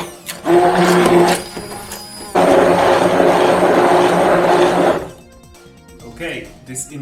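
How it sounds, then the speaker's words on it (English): A handheld immersion blender whirs loudly through a pumpkin mixture in two long bursts with a brief break between, then stops, leaving quieter clatter and handling sounds. "this immersion blender has done its work and this mixture is ready"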